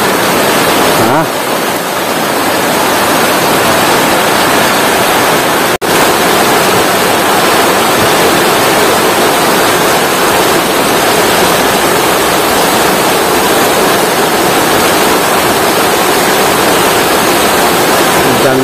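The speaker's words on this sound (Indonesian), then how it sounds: "ini hujan udah mulai lebat nih" Heavy rain pours down over a garden plot, a dense, loud, steady hiss that continues unbroken throughout, with one sharp click partway through.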